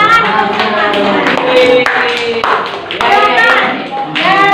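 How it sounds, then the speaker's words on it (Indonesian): Students in a classroom lesson on bone structure clap together in quick, loud bursts, close by and mixed with their voices calling out over the claps. "tepuk tangan untuk kalian"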